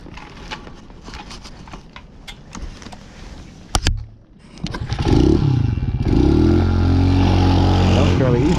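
A motorcycle with starting trouble, kept in the house, is kicked or cranked with clattering mechanical noises, then the engine catches and settles into a loud, steady, close revving idle. Talk is heard before it starts.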